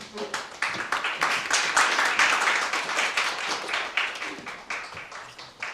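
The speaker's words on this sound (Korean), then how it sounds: "모두 박수로 환영해 주시기 바랍니다" A room full of people at a Korean business seminar on ChatGPT applauds, a dense run of clapping that swells and then tapers off over several seconds.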